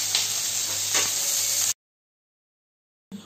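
Vegetables for veg Kolhapuri sizzle and hiss loudly and steadily in a frying pan as they are stirred, then cut off abruptly into silence before a brief return at the end.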